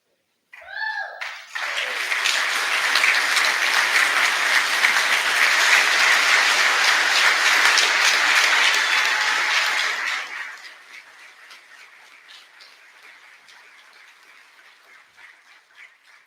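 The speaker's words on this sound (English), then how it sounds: "I would like 195 to stand on their feet and give your friends and family a standing ovation" Graduates of a class graduation give their friends and family a standing ovation: loud, sustained applause and cheering from a large crowd that continues for about nine seconds, then drops to scattered, fading clapping.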